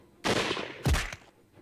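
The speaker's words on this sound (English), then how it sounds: "Then I'd heard another gunshot." Two sharp, loud video game gunshots in quick succession, the second booming and heavier, with a short echoing tail and no talking.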